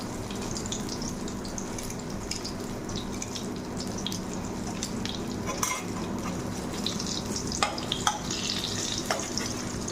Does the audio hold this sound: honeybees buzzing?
no